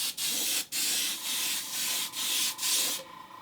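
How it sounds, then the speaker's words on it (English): Repeated bursts of gold aerosol spray paint hissing onto a Hot Wheels car, about six short sprays separated by brief pauses, close and steady with no talking. "It's like spraying gold."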